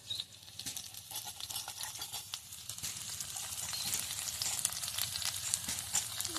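Chillies and vegetables for carrot vegetable semai fry in a pan, giving a soft, steady sizzle with scattered crackles and pops that grows slightly louder over time, with no talking.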